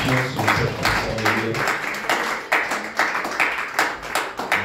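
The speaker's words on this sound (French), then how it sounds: "Acclamons le Seigneur pour ce message." A church congregation at a worship service applauds together, a dense, sustained round of clapping heard close and loud throughout, with rhythmic bursts within the crowd.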